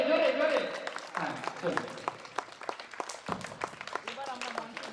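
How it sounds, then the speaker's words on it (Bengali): Scattered audience clapping at a Bengali anniversary award ceremony after a ribbon-cutting inauguration, sharp claps sounding over and under a speaker's voice on the microphone. "একটু হাততালি জোরে জোরে জোরে।"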